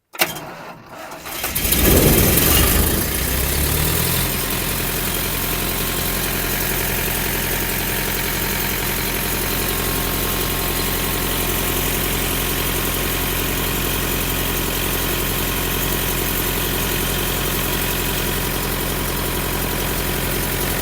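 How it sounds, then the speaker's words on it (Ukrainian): A large diesel engine of a combine harvester cranks and starts, then settles into a steady, deep idle rumble with constant vibration, close by and unchanging. "Видно, яка робота двигуна."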